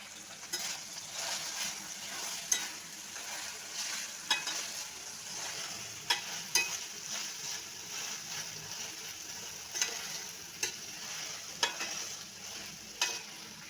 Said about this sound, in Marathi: कांदा शिमला मिरची याला असं तेल सुटलं पाहिजे